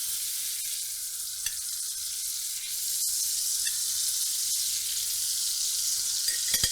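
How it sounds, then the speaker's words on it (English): Two tablespoons of butter and garlic oil hiss in a Dutch oven preheated on high heat, making a steady bright sizzle with a few small pops and crackles, close and continuous. "We're going to add 2 tablespoons of butter and 2 tablespoons of garlic oil."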